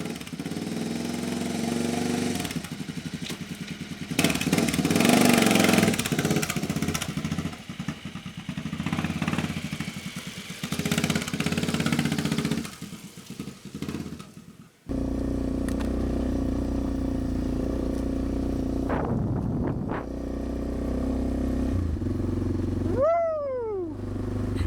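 A Suzuki motorcycle rides off through a Spanish desert landscape near an abandoned settlement, its engine steady and fairly loud, with wind buffeting and a rising rev toward the end.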